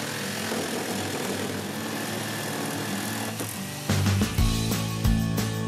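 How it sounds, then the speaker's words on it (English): A power drill bores a pilot hole and a jigsaw cuts a sink opening along a template outline in a kitchen countertop, making continuous loud buzzing mechanical noise that turns harsher and more rattling partway through. "Drill a pilot hole for the jigsaw and cut around the template outline."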